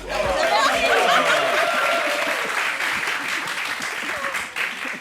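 Audience applauding at a French entertainment show, loud dense clapping at first that gradually thins and fades, with some chatter and light laughter underneath.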